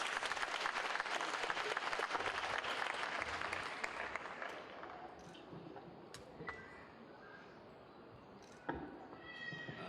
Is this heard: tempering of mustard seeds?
no